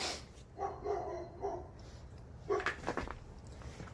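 A neighbor's dog barks a few times in the distance, faint, separate woofs spaced across a few seconds in an otherwise quiet outdoor setting.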